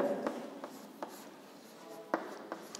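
Chalk or marker scratching on a classroom board, a few short separate strokes with quiet pauses between them and no voices.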